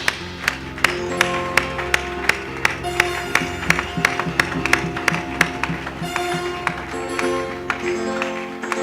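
A church congregation claps in steady rhythm over loud worship music, sharp regular claps running all the way through with no pauses.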